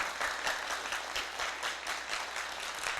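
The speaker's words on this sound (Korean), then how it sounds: "박수 한번 부탁드립니다." Audience applause at a high school admissions information session, steady dense clapping from a crowd filling the whole stretch without a break.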